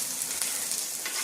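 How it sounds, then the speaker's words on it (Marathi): Garlic frying in hot oil in a grandmother's home kitchen, a brief burst of dense, even sizzling crackle heard close up and alone. "लसूण तळून घेते."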